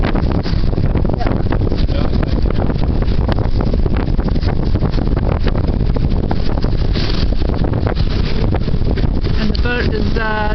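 Gale-force wind roars steadily across the microphone on a boat pitching in heavy seas off Block Island, a loud unbroken buffeting with a voice faintly audible under it.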